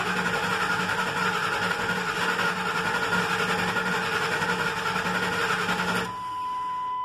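A Ford F250 engine cranks over on its starter after an oil change, a steady whirring drone lasting about six seconds and then cutting off, leaving a faint hum.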